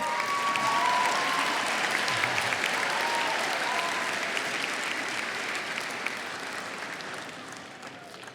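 An audience at a GED graduation ceremony applauds a graduate stepping up to the podium, steady dense clapping that fills the room for several seconds, then gradually thins out.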